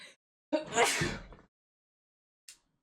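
A single sharp sneeze with a gasping intake before it, close and fairly quiet, followed by silence and a faint click.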